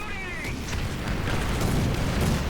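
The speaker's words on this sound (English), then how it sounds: "Put some artillery down on it." An artillery barrage explodes in a War Thunder ground forces battle, a deep, rolling boom and rumble that fills the whole moment at close range.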